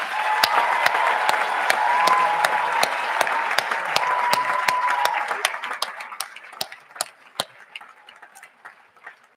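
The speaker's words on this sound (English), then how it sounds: "So let's join together and give them a huge round of applause." An audience at a school speech day applauds award-winning students, a dense burst of clapping that thins out into scattered individual claps toward the end.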